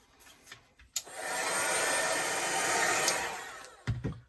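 A hair dryer blows on wet purple and orange paint on a small artwork. Its steady, close whooshing drone runs for about three seconds, with clicks and handling noises as it switches on and off.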